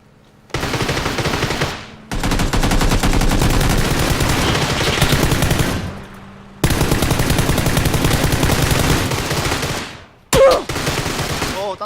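Long, loud bursts of automatic gunfire from PUBG Battlegrounds rattle rapidly and close, broken by short pauses, with a brief sharp sound near the end before the firing resumes.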